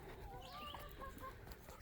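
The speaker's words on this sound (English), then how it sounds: "They make funny noises, those chickens." Chickens clucking near a wooden coop built like a little alpine lodge, a few faint rising and falling calls over steady low background noise.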